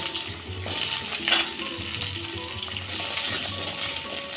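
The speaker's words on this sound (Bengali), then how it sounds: "ওলকপি আলু ডিম সব ভেজে নেব" Pieces of kohlrabi fry in hot oil in a pan, a steady loud sizzle with occasional stirring scrapes and spatter.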